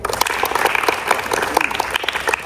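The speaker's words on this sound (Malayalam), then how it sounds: "ഒരു കയ്യടി കൊടുക്കും." Schoolchildren clap together in a brisk, dense round of applause at a girls' self-defense class in a school hall, steady and fairly loud for the whole stretch.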